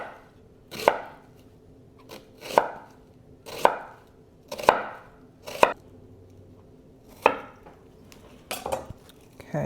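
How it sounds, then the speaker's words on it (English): A knife slices red onions thinly on a cutting board, about eight crisp, evenly spaced cuts roughly once a second, each a sharp thunk against the board, close and clear with no talking. "I'm going to slice them fairly thin in this way"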